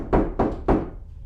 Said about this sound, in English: I heard a knock at my door